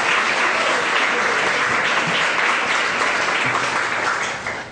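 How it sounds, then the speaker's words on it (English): Audience applause at a literary tribute event, a dense, steady wash of clapping that holds for nearly five seconds before tapering off at the end. "I'll ask you to interrupt me at this point with applause for Anne Phelan"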